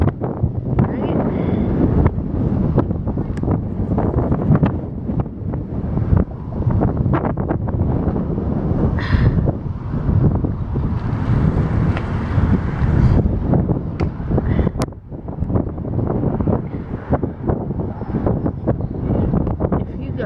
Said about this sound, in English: This wind is making it hard to keep the camera still